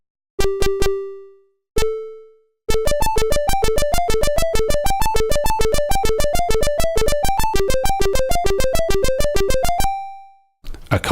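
A SID 6581 synthesizer preset recreating the Light Force sound by Rob Hubbard plays bright, buzzy retro video game tones: a few plucked notes, then a fast rhythmic arpeggio run that ends in a held tone, alone and loud.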